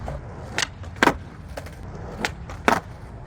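Skateboard doing a backside big spin at a park ledge: several sharp wheel and tail clacks spaced about half a second apart over a steady low rolling rumble, with the loudest pops near the one-second and late marks.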